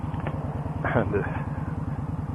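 Steady motorcycle engine thrum on a Sunday ride in warm weather, a continuous pulsing low drone with wind noise, and someone talking briefly over it.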